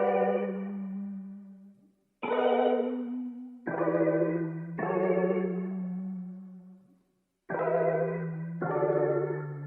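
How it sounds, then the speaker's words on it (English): Guitar one-shot sample from a one-shot kit playing a slow chord progression through vintage chorus, six sustained chords in separate blocks with short gaps, steady and clear with no voices. "I came up with the chord progression which sound like this"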